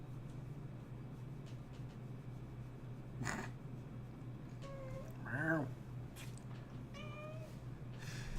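Several separate cat meows, one longer and louder in the middle, over a constant low rumbling hum; no clear talking.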